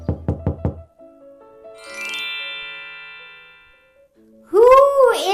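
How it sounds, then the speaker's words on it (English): Four sharp knocks on a wooden door, close and loud, followed by a soft ringing tone and then a voice speaking in a storybook reading. "The wolf knocks on Grandmother's door."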